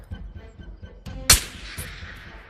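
A single loud, sharp sniper rifle shot in the VR shooter Tabor, cracking close up and trailing a short echoing tail, with faint rhythmic background game sounds before it.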